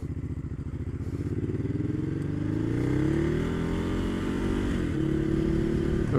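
Ducati Hyperstrada motorcycle, a 2016 model, ridden in urban mode on wet city streets, its engine droning steadily with rising and falling pitch as it accelerates, loud and close throughout with no talking.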